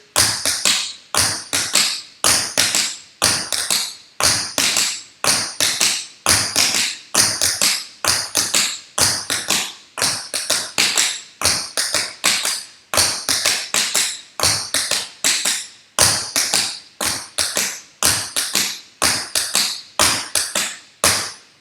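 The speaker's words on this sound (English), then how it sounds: "really get that feeling in your feet of tapping twice and making that sound" Steady, quick tapping of tap shoes, crisp clicks in a repeating double-beat rhythm, close and clear with no talking.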